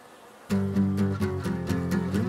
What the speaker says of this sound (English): Now the bees can come out, but they can't get back in.